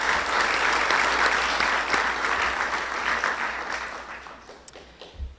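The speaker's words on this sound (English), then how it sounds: "Big round of applause for them." Loud, dense audience applause at a town event, sustained clapping that gradually thins out and fades, with a few scattered claps near the end.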